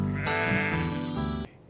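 A single Booroola sheep lets out one drawn-out, wavering bleat, close and loud, ending abruptly.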